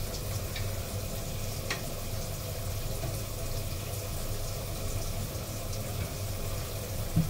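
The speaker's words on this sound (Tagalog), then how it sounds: "At hugasan ang pinagamitan nang hindi mapagalitan." Tap water runs steadily in a kitchen sink while used cookware is washed after cooking adobo, a constant close hiss with faint clinks and no pauses.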